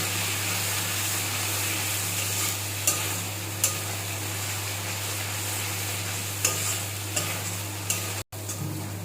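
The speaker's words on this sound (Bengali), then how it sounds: "এবার মশলাটাকে ভালো করে কষিয়ে নেব" Kashmiri chillies, salt and turmeric sautéing in a pan for a paneer dish, a steady close sizzle with occasional scrapes of a spoon stirring through the spices, and a low constant hum underneath.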